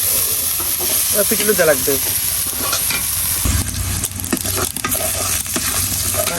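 Spinach being stirred with taki fish in a frying pan, a steady sizzle and scraping stir running throughout, with a brief spoken remark early on.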